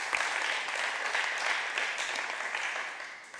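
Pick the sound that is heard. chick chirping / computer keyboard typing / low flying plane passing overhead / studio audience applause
studio audience applause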